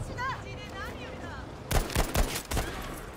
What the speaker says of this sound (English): The weapon I'm using is of course the M1 Garand.